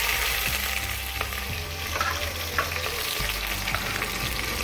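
Onions sizzling in hot cooking oil for kadhi pakora, a steady loud frying hiss with occasional stirring scrapes, close and continuous without talking.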